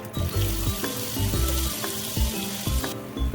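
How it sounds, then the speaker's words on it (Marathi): Mustard seeds, curry leaves and cut potato hit hot oil for rava upma, giving a steady close sizzle with scattered crackles and some stirring clatter, with no voices. "आता तेलामध्ये टाकूयात मोहरी, त्यानंतर कढीपत्ता, त्यानंतर कट केलेला बटाटा"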